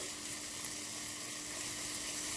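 Ginger garlic paste tipped into onions frying in oil for tomato sambar, a soft, steady, hissing sizzle that stays even throughout without other sounds.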